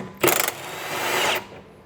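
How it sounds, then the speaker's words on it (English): Short burst of an impact wrench zapping off an 18 mm nut from below on a Porsche 911 (997) rear control arm, followed by a steady mechanical whir, close and loud, with no talking. "I'm gonna take my 18 millimeter on my impact and just zap it off from below."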